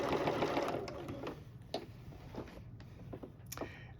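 Bernina sewing machine running during quilt binding, a steady stitching whir loudest in the first second and a half, then fading to a quieter hum with scattered ticks and clicks.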